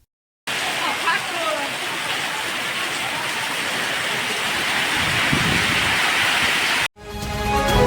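Heavy rain pours steadily and loudly in Sajjanpura Kampa, Malpur, a dense unbroken roar of downpour that continues for several seconds before cutting off abruptly.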